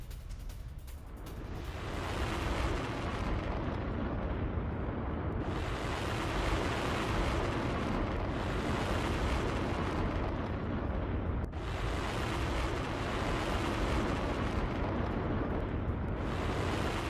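Explosions from rocket attacks in northern Israel boom and rumble in a dense, loud wash, with several sharp blasts that cut through about every six seconds and no talk.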